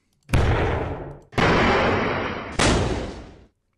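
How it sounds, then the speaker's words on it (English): Three separate crash-and-explosion effects from a game-building tool's sound library play one after another, each a loud sudden burst that decays over about a second, separated by short silences. "let's type explosion in here, and we'll have a lot of different crash and explosion effects"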